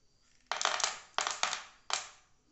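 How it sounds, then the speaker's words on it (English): Cartridges from a .22 IOF revolver tumble out in three quick clattering bursts of small metallic rattles, close and fairly quiet. "we'll just empty all the rounds"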